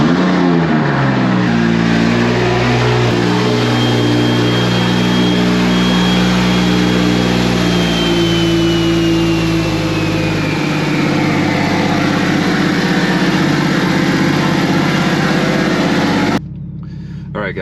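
A big-turbo, top-mount Toyota Supra engine cranks and fires, then revs up and settles into a loud, rough idle close by before cutting off near the end.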